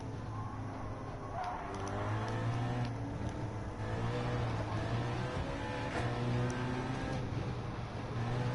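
Porsche and BMW race cars running side by side in a racing video game, a loud continuous engine drone with rising and falling revs as the cars shift and pass, steady throughout.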